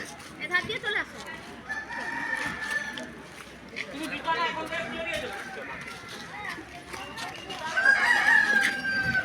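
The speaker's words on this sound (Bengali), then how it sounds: "চারিদিকে শুধু মোরগ ডাকছে" Several roosters crow around a jungle temple in forested countryside, their calls rising at intervals over a steady outdoor backdrop, with a louder, closer crow near the end as people talk nearby.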